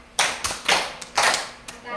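Rhythmic hand clapping in a classroom clapping game, a handful of sharp claps in an uneven pattern, close and fairly loud, with no talk over them.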